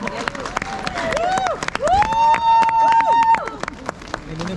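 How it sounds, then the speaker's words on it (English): Outdoor crowd at the Hornbill Festival in Nagaland applauding and cheering for tribal dancers: continuous clapping and crowd noise, with a long whistle-like tone rising above it and voices in the background. "A huge round of applause for the Chakisang and the Sangtam tribe."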